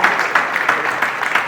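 Audience applause at the Mirzapur trailer launch event, a steady wash of many hands clapping with regular surges, fairly loud and sustained throughout.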